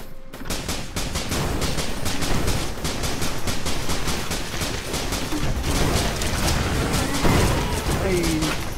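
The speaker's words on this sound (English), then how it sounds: "Mostly I've just been firing the gun." Rapid, dense gunfire from a video game in Risk of Rain, with a steady stream of repeated shots that stays loud and close throughout and no pauses in the firing.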